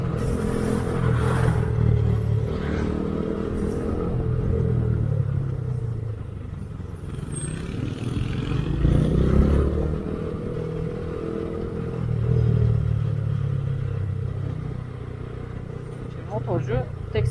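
A Honda Activa scooter is ridden in the rain, its engine droning steadily along with wind rush and road noise while someone talks over it throughout.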